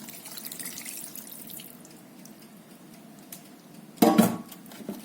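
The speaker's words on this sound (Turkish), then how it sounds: "Karıştırdıktan sonra 2 su bardağı daha ekliyorum." Water poured into a pan of food being cooked, a short splashing gush near the end after a quiet stretch of faint kitchen clatter.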